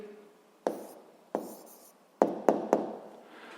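A pen writes an answer on paper in a handful of quick scratchy strokes, close and quiet, with brief silences between them.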